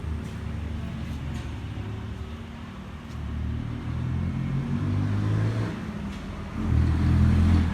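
A small 9.5 horsepower Kawama diesel engine for a walk-behind tractor chugs steadily at close range, a low rumbling idle that swells louder toward the end.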